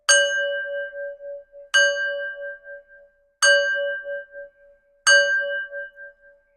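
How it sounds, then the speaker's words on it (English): A small hand bell rung for energy clearing strikes four times at even intervals, each clear metallic ding ringing out and decaying before the next, with no voices. "So I'm going to ring my bell, clear my energy, raise my vibration"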